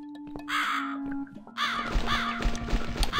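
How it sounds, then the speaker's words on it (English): Crow caws from The Cat Lady video game, several harsh rasping calls in two bursts over a steady low ambient drone, fairly close and clear. "I think we're gonna follow that crow."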